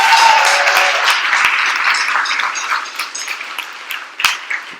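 A crowd at a closing ceremony claps for the event coordinators, starting as full, loud applause and gradually thinning to scattered claps, with a couple of sharp isolated hits near the end.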